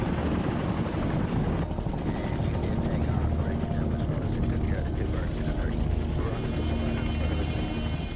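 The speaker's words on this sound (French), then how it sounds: "les premiers hélicoptères américains décollent de la base" American military helicopters of the Vietnam War fly continuously with a loud, close, steady rotor roar and engine drone, with someone narrating over the noise throughout.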